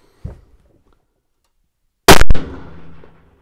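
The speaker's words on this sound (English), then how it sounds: "I'll put 3-shot group into it there" A rifle fitted with a CVLIFE LPVO scope is fired at a target: one loud, sharp report with a rolling echo tail, preceded by a faint thump.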